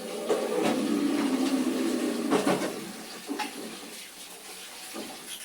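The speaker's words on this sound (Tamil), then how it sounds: "இந்த பாத்திரத்தில் ஊற்றி நம்ம செடியில் அப்புறம் ஊற்றிக்கலாம்." Cloudy water left from washing rice is poured into a kitchen vessel, a steady splashing stream for a few seconds that thins and trickles off toward the end, with no talking.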